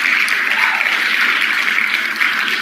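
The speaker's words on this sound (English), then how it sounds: "And here's a hand clap for all of those." Steady, fairly loud hand clapping from an audience on a morning live call, a continuous dense patter of applause with no voices over it.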